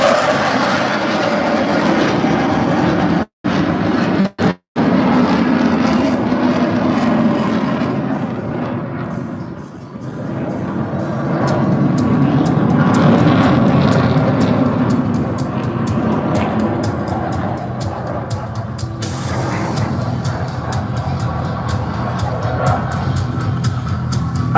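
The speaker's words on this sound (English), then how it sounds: "the two engines are giving you 18 tons of thrust" A twin-engine jet with reheat thunders past at the Malta International Airshow in Qawra, a loud sustained roar that swells and rumbles for many seconds, briefly cutting out twice early on.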